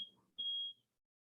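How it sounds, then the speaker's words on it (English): A household smoke alarm with a failing battery gives a short high chirp, then a longer steady beep of about half a second, sharp and clear in an otherwise quiet room. "one of our smoke alarms is going off."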